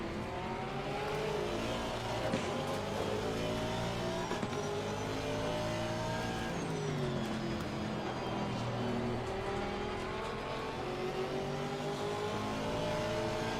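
Aston Martin Vantage V8 GT3 race car engine in the Assetto Corsa Competizione racing game at Zandvoort, a loud, steady droning roar with rising and falling revs through gear changes and no talk.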